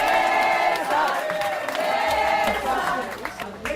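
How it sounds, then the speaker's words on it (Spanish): Bank workers at Banco Sabadell give their executives an ovation, a crowd clapping and cheering with whoops, dense and sustained, and speech running over the applause. "Estamos escuchando esa ovación por parte de los trabajadores del Banco Sabadell"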